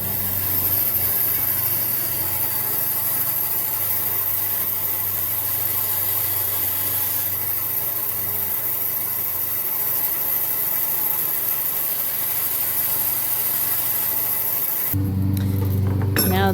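A wooden French rolling pin has its rough ends sawn off in a steady, continuous rasping saw stroke, fairly loud and close, running for about fifteen seconds before stopping abruptly.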